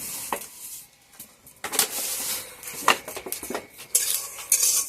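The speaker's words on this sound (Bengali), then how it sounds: "সবার প্রথমে তিলগুলা খুব ভালো করে ভেজে নেই, মুচমুচা করে ভেজে নেই" Black sesame seeds roasting dry in a pan for sesame brittle, with a spoon scraping and stirring against the metal in bursts of clinks and light rattling, close by with no talk.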